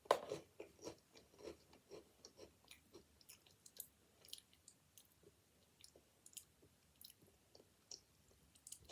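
Someone chews Freddie cinnamon-dusted crisps, a quiet close run of irregular crunchy bites and mastication clicks over several seconds with no talking.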